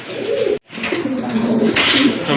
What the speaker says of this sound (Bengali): দেখেন আরেক জোড়া কবুতর